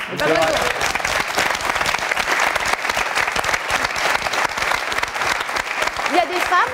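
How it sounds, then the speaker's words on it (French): Aboard a French navy frigate, a crowd applauds loudly and continuously, a thick wash of clapping with brief voices at the start and end. "Allez, on les applaudit."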